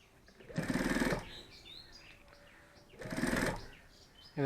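A sewing machine stitches folded fabric for a bag in two short bursts of about half a second each, separated by a quiet pause, with faint background sounds between them.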